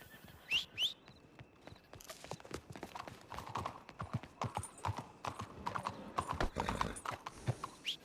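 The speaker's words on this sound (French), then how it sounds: "Cheval qui disparaît à reculons." A horse steps backwards with a crisp, irregular clip-clop of hooves that is close and fairly loud throughout. There are a couple of brief whistle-like squeaks near the start and a faint whinny.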